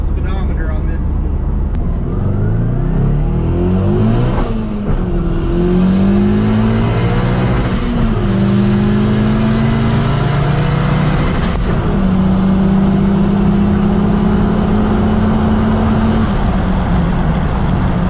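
A car fitted with a Maxpeedingrods GT35 82R turbo on about 10 pounds of boost accelerates hard, the engine roar rising steadily with rising pitch sweeps and turbo whine throughout, a brief break near five seconds, loud and close.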